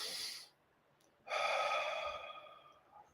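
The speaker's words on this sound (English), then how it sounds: "Can you take a deep breath?" A deep breath in and out, a short inhale followed after a pause by a longer, louder exhale, close and clear in a quiet setting.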